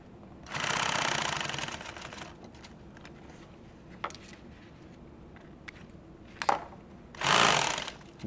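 A sewing machine stitches nylon tactical gear in two bursts, one long steady run near the start and a shorter one near the end, with quieter handling clicks between.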